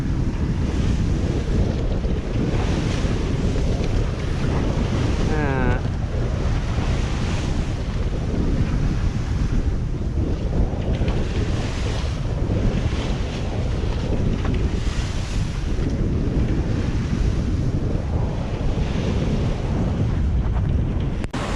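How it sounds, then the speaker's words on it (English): Rough waves slap and churn around a sailboat close-hauled on Chesapeake Bay, a continuous loud rush of water heavily mixed with gusting wind buffeting the microphone throughout. "The thing that's going to slow us down now is all these waves."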